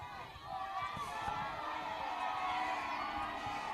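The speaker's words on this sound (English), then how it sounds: "So the crowd getting loud" A large crowd at a school Ulster final roars and cheers steadily at a distance, a broad sustained wash of voices with scattered shouts rising over it.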